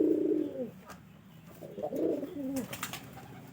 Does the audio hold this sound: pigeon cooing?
yes